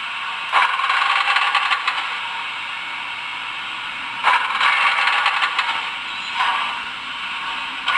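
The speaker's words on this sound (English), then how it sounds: "F12 is setting the brake or brake release, and then when moving that would turn on the brake squeal" An N scale Broadway Limited PRR M1b Pennsylvania Railroad model locomotive's sound system gives a hissing brake release and a high, steady brake squeal, in several loud bursts broken by quieter stretches, with no talking.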